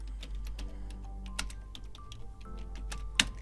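Fast, quiet typing on a computer keyboard, a steady run of light key clicks with one sharper tap near the end, over a low constant hum.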